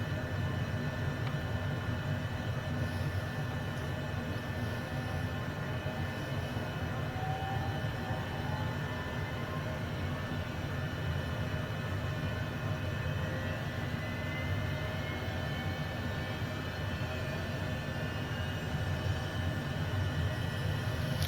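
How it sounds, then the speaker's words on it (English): Twin jet engines of a HondaJet light jet spool up inside a flight simulator, a steady droning whine with a low rumble holding level and continuous, with no talking over it. "that's 2 good engine starts"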